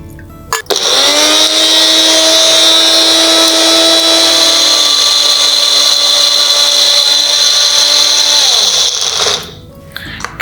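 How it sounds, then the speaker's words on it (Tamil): A mixer grinder whirs as it grinds herb leaves with turmeric and a little water, a loud, steady high-pitched motor whine running about nine seconds, its pitch shifting slightly midway, then cutting off abruptly. "கிணற்று பாசான் செடியோட இலைகளும் மஞ்சளும் சேர்த்து அரைச்சிருக்கோம்"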